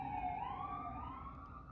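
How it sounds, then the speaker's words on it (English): An emergency vehicle siren wails steadily in the distance, one faint rising tone that holds and drifts upward over a quiet background. "And I hear sirens"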